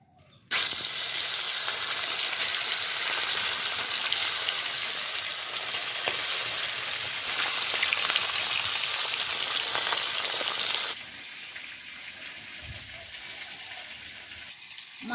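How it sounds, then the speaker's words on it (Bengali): Small rohu fish sizzle and crackle loudly in hot oil in a home kitchen pan, a dense continuous hiss that drops suddenly to a quieter simmer near the end. "তেল গরম হয়ে গেছে, মাছ ভেজে নিচ্ছি।"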